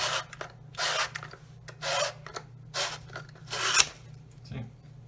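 Rough rasping strokes scrape copper pipe clean to shiny metal, repeated in short bursts of about half a second each with brief gaps, close and fairly quiet over a low steady hum.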